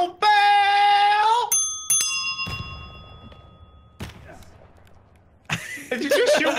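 A small bell is struck in The Forest survival video game, ringing out as a bright, loud ding with a lingering metallic decay, followed by a few thuds and a voice talking.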